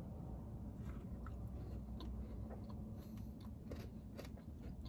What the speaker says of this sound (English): let's take a bite.